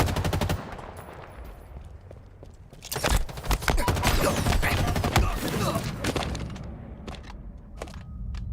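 Rapid video game gunfire rattles in dense bursts, with heavier explosive cracks from grenades, loud and continuous across the stretch, over a low background rumble.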